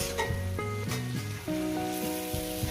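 Pumpkin and bitter gourd frying in a pan give off a steady, close crackling sizzle, with a few tonal sounds layered over the hiss.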